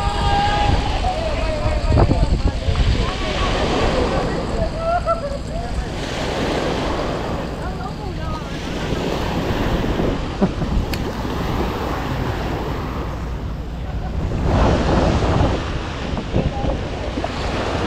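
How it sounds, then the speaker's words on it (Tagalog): Ocean surf rolls and breaks on the beach at Changi Beach Park, Singapore, amid gusty wind buffeting the microphone, with people talking faintly beneath the wash of waves. "Ayan, sa tabing dagat, ayun."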